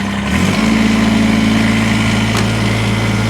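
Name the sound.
Kubota BX23S diesel tractor engine starting and idling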